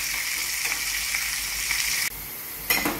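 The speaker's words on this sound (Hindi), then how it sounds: "अब इसे थोड़ा सा चलाने की जरूरत पड़ेगी।" Ginger and garlic pieces sizzle steadily in a hot pan for Amritsari paneer bhurji while being stirred, a constant close frying hiss with brief scraping shifts near the end.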